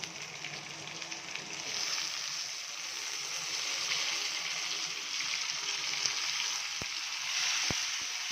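Onions and green chillies frying in a pan, a steady broad sizzle holding close and even throughout, with a couple of faint clicks near the end and no talking.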